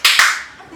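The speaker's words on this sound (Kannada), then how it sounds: "ಕಮಾನ್ ಚಪ್ಪಾಳೆ." A short burst of applause from a few people inside a salon, two quick bright claps then a fading ring, lasting under a second.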